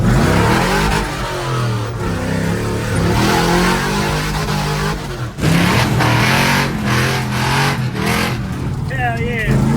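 Chevrolet squarebody truck engine revving loudly and steadily as a ride gets under way, with pitch rising and falling through repeated throttle surges; voices talk over it.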